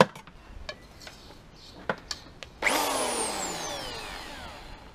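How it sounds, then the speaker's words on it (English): A power drill fitted with a 6mm bit spins up at high speed and carbon shaft material is drilled. Light tapping and handling come first, then a sudden loud whine starts, close, and slowly drops in pitch as it keeps running. "the important thing is to remember this drill needs to be running high speed,"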